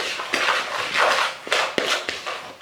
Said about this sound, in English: This one we just mix a little bit.